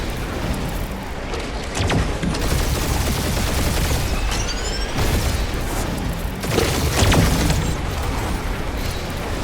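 A heavy gunfire barrage in the video game Guardians of the Galaxy: dense, loud, continuous shooting mixed with booms and impacts, with laser-like zips cutting through the din.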